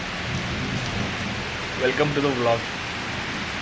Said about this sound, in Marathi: आणि आत्ता पडतोय पाऊस.